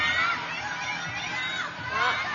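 A table tennis arena crowd at a WTT Champions Incheon quarterfinal, loud and continuous, with shouting, chatter and cheering swelling throughout the rally.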